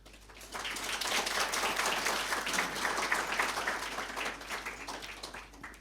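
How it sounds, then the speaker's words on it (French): Applause at a civil registry conference in Cameroon, a crowd's clapping rising quickly into a steady dense wash, holding for several seconds and then thinning out, heard from within the hall with no speech. "Vous avez les applaudissements du directeur général."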